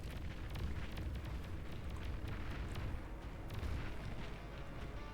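Buildings explode in the real-time strategy game Beyond All Reason, producing a dense, continuous rumble of overlapping blasts and booms. The rumble is steady and moderately loud, with no speech.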